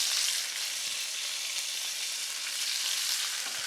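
Pine nuts and mushrooms sauté in a hot pan, giving a steady, close hiss of frying that holds an even level throughout with no talking.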